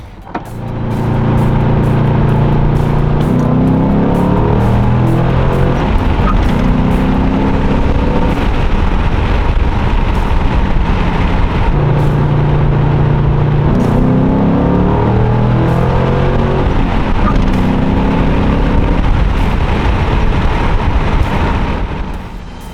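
A Ford Mustang GT track car accelerates hard from 40 to 70 mph, its V8 roaring loud and steady from inside the cabin with rising engine tones through two gear changes.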